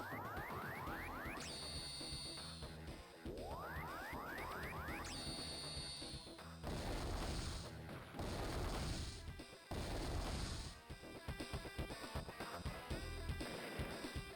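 Missile attack in Advance Wars 2 with chiptune-style game sounds: rising whooshes and whistles, then a series of loud crunching explosion bursts, followed by sharp repeated impacts, all dense and continuous.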